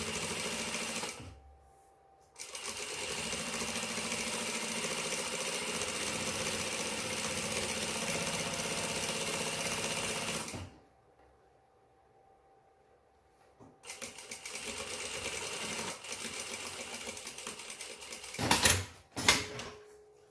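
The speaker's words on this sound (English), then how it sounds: "You don't need to back tack for this stitch, you can just run it." A sewing machine stitches a straight line along the edge of a pair of pants, running loud and steady for about ten seconds, then pausing before starting again.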